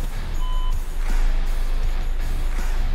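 A Volkswagen Passat 2.0 TSI parking sensor gives a short electronic tone over a steady hum of background noise.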